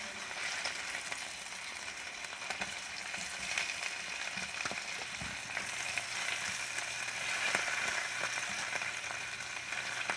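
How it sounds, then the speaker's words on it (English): Pork chops frying in a pan, a steady close crackling sizzle with fine spatter that stays even from start to finish, with no talking. "we'll let those brown up on the other side and then our pork chops will be done"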